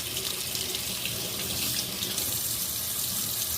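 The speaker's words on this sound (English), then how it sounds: "So I'm gonna go ahead and get some water going." Steady rush of water running from a tap, a constant hiss with no pauses, close by and fairly loud.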